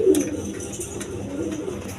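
Pigeons coo close by in a seller's loft, giving soft, throaty calls that repeat throughout over a low background hum.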